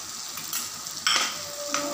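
Onion and capsicum masala with chilli powder and garam masala fries in a pan, a close steady sizzle with a few sharp scraping stirs of a spatula against the metal.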